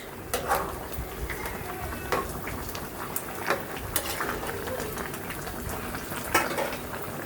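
Layer chicken meat simmers in a pot as its water cooks off, a steady sizzling bubble broken by scattered clinks and scrapes of a utensil against the pan, close and moderately loud.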